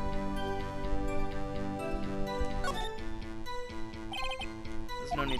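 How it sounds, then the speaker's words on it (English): A cell phone rings in the Phoenix Wright: Ace Attorney video game, sounding as short repeated electronic tones over steady game music, with no talking. "Cell phone."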